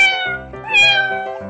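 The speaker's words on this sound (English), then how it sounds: "Cat." A cat gives a loud, close, drawn-out meow that rises and then falls, followed by a shorter trailing mew, heard alone.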